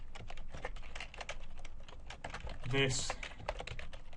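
Rapid clicking of keys on a computer keyboard as JavaScript code is typed, a dense run of close, crisp keystrokes with a brief spoken word partway through.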